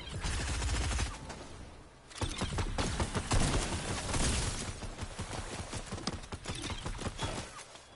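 Rapid bursts of gunfire in Fortnite clatter in dense, loud volleys, pausing briefly after the first second before resuming in a steady barrage.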